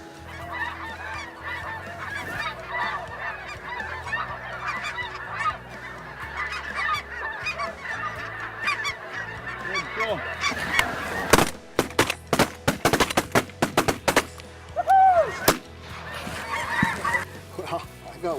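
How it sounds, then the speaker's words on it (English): Waterfowl flying in during a foggy morning duck and goose hunt: a flock honking, faint and distant at first, then loud, close and raucous, with gunshot-like cracks amid the calls and some talking. "Oh, some ducks coming in right now."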